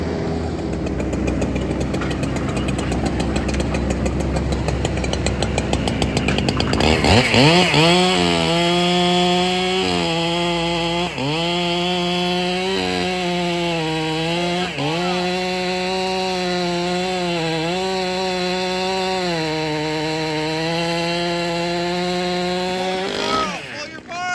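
Loud chainsaw cutting a notch into a large silver maple during a tree takedown, starting after a stretch of busy background noise, then running steadily with repeated revving surges as the cut deepens for about seventeen seconds.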